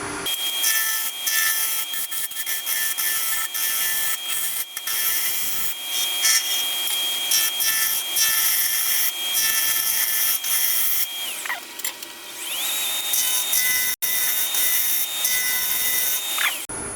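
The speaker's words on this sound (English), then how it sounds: "I'm using this 1/2 inch spindle gouge very much on edge, so the wood is being cut" Wood lathe running at about 900 RPM while a 1/2 inch spindle gouge held on edge cuts the spinning wood, a continuous bright scraping hiss with a steady motor whine underneath, close and loud throughout.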